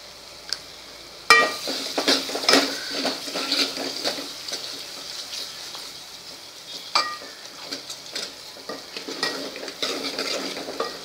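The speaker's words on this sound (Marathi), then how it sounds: "बघा हे छान परतून घ्यायचं आहे." Asafoetida and turmeric are sautéed in oil in a pan for pithla, with a soft sizzle beneath repeated close scrapes and clinks of a metal spoon stirring against the pan.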